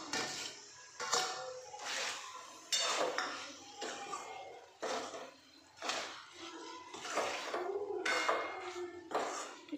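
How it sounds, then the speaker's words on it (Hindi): Cut arbi (taro root) goes into a pan of masala, with repeated metallic clinks and scrapes of a spoon against the pan coming in uneven bursts, fairly close and moderately loud. "ये जो अरबी मैंने कट की हुई थी अब मैं इसको इसमें डालूंगा।"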